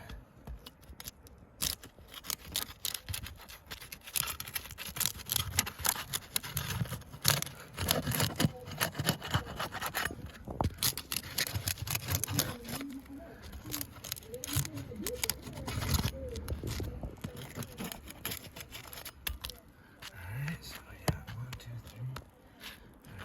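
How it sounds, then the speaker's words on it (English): Roof shingles being pried and pulled loose near a windcrete shingle, with repeated scraping, tearing and tapping clicks in irregular bursts, close by, while someone talks intermittently. "I'm gonna go ahead and start by taking the shingles out above this windcrete shingle here"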